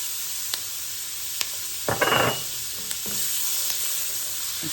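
A medium yellow onion sizzles in butter in a pan, a steady soft hiss broken by a brief louder crackle and scraping stir partway through, with a few faint clicks and no talking.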